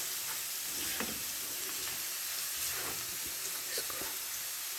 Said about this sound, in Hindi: इसको भी मैं इसके साथ ही अच्छी तरह से फ्राई कर लेना।